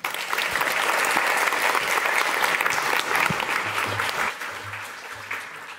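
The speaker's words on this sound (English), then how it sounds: "Can I have an applause, please, for Jaap Seidell?" A lecture audience gives a speaker a loud burst of dense, continuous clapping that holds steady, then gradually thins and fades toward the end.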